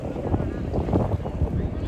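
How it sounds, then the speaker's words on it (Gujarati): A boat moves on the sea at Dwarka with a steady churning rush of water and engine. Strong wind buffets the microphone throughout the brief moment. "બધી બોટો ભેગી થઈ ગઈ છે ત્યાં"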